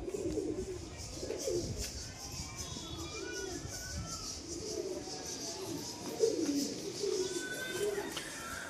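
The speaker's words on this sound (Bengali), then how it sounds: "কবুতর নিচে আর কটা ছেড়ে দিই" Pigeons let out onto the ground coo in a steady series of low, throaty calls, fairly faint against a light outdoor hiss, with a voice briefly in the background.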